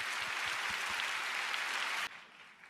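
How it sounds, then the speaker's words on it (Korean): A church congregation gives the pastor a hearty round of welcoming applause, dense steady clapping that cuts off abruptly near the end, leaving a faint tail. "목사님 나오실 때 힘찬 박수로 환영하며 맞이하겠습니다."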